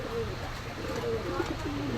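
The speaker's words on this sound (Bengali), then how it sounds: "এই এক পেয়ার গোল্ডেন কবুতর, খুব সুন্দর কোয়ালিটির কবুতর" Pigeons coo in low, wavering tones at a pigeon shop in Gollamari, Khulna, among golden and high-flying breeds, set against a dense, steady background hubbub with faint voices.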